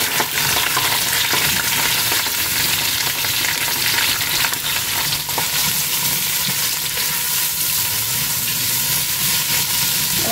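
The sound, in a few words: onions frying in oil in a pan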